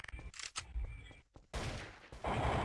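Gunfire in Garry's Mod during a jailbreak round, with dense bursts of shots and clatter in rapid succession, loud and continuous across the moment.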